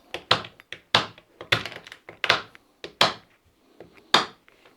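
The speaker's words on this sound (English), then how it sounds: "Now we're going to take these fairly large chunks of chocolate and just cut them up a bit" A knife chops large chunks of Lindt chocolate on a cutting board, giving about a dozen irregular, close, solid thunks with short gaps between them.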